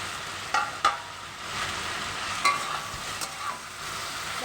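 Mixed vegetables sizzling and frying in a pan once the lid is off, a steady close hiss with a few sharp clinks of a utensil stirring.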